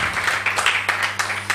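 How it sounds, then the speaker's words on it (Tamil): At a live Sunday church service, a congregation claps in brief rhythmic bursts over a held keyboard tone, close and fairly loud. "கைதட்டுங்கிறது அவருக்கு."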